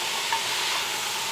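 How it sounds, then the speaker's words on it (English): Onions and mixed vegetables for minestrone soup sautéing in a pan, a loud continuous close sizzle with a faint stir, no talking. "we're going to just saute these until they get a little bit soft and the onions get translucent"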